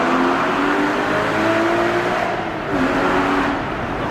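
A car with a stock exhaust roars steadily as it accelerates through a tunnel, loud and close, with the tone shifting through gears and no talking.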